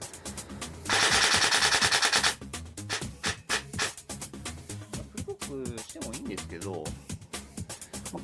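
An electric airsoft gun with a 39K motor, a DSG gearbox at a 26.67 gear ratio and an 11.1V battery fires one rapid full-auto burst of about a second and a half, harsh and close, while someone talks over and after it.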